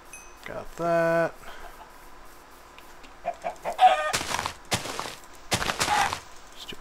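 Minecraft chicken clucks come in short bursts in the middle of the clip, between a sustained tonal game sound at the start and loud broadband game noise bursts near the end.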